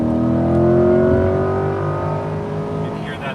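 The 6.2-liter V8 of a 2020 Chevy C8 Corvette Stingray Z51 revs up loudly, its deep rumble rising and then settling into a throaty idle.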